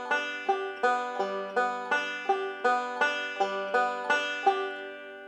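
A right-hand forward roll of Little Maggie, played in Sally Goodin position: a bright, steady stream of plucked string notes in rolling groups, each ringing briefly, played alone and close.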